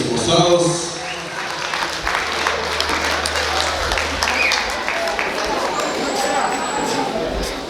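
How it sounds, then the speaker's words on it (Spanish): Guests at a wedding applaud the newlyweds with steady crowd clapping throughout, mixed with chatter and a low musical hum. "Oigan esos aplausos, que se escuchen los aplausos para los jóvenes con recién esposados"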